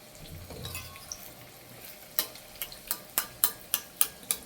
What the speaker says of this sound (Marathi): आणि आपण आता हे डीप फ्राय करतोय